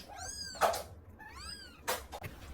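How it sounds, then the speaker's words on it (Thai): A cat gives two drawn-out, rising and falling meows, close and clear over quiet background hum, with no talking. "มีแมวตัวหนึ่งไม่อยากคืนลูกให้พี่มารี"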